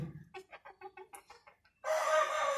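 Hens clucking in a quick series of short, close calls, followed by a louder burst of busy clucking and squawking.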